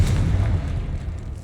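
A Confringo blast spell in Hogwarts Legacy goes off as one deep, booming explosion with a rumbling low tail that fades over a second and a half, heard alone.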